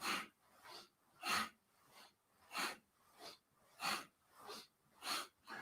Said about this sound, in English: And powerful breathing.